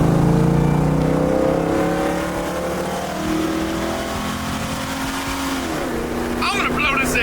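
A 1969 Chevrolet Camaro engine revs and pulls hard under acceleration, its rising roar loud and close throughout, with a voice talking over it.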